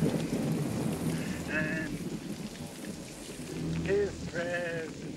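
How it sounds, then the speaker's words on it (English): Rain falls in a steady, fairly quiet wash outdoors, with voices and brief tonal cries rising over it. "it's raining."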